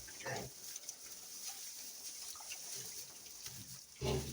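White pigs munching and crunching on hay up close, with rustling and snorting, a louder burst of chewing near the end.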